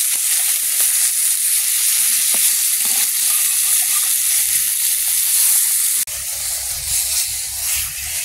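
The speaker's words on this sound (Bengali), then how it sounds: "মাছগুলো ভেজে নিলাম" Pieces of silver carp fish frying in hot oil, a steady loud sizzle with faint stirring clatter, the sputter deepening and growing heavier partway through as the fish shifts in the pan.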